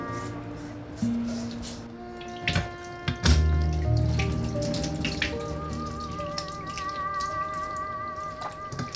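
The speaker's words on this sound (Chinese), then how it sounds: "用清水洗去表面的盐和粘液" Tap water runs over a red tilefish being rinsed of salt and slime at a kitchen sink, a close steady stream with splashes, drips and light handling knocks.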